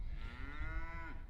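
A single cow on a farm gives one close, loud, drawn-out moo that rises slightly and then cuts off, with low rumbling background noise.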